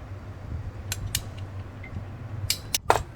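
Tapping on an alternator stator coil to align its bolt holes, heard as a few sharp metallic knocks, two early and a quicker cluster of three near the end, over a low steady hum.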